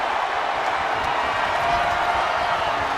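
Crowd noise in a WWE wrestling video game arena, a steady broad wash of distant cheering and murmur that holds level throughout, with no voices standing out.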